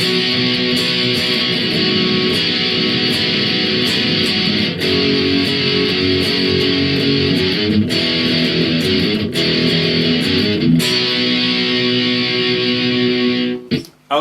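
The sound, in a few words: electric guitar playing chorus B of a song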